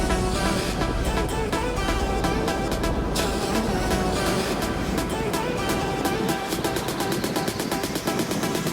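Heavy water rushing out through the Tahoe City Dam, swollen with ice melt, a dense continuous roar close by with some clicking and rattling over it.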